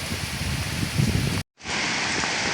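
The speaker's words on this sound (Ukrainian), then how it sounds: "Ось, щоб ви розуміли, який дощ." Steady outdoor rain falling near a fountain, a dense, even hiss of drops on surfaces that cuts out briefly and then resumes at the same level.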